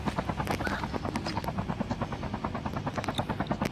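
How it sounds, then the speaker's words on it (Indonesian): A helicopter's rotor beats in a fast, steady chop close by, loud and continuous throughout with no voices on top. "Ini helikopter aku nih, nggak bayar sewa kalian"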